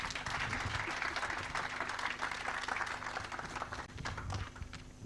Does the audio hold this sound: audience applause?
yes